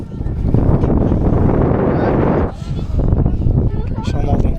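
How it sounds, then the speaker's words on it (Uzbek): Strong wind buffets a microphone fitted with a windscreen on a mountain, producing a loud, continuous low rumble that dips briefly midway before surging back. "Aynan shamol boshlandi."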